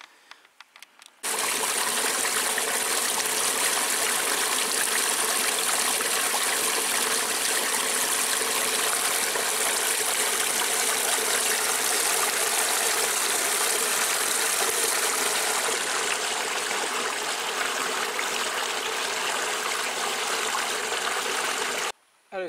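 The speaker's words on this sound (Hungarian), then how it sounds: "Előttünk a patak" A stream in the Cuha gorge flows steadily beside a railway, a loud, continuous broadband rush of water that starts abruptly and holds constant before cutting off at the end.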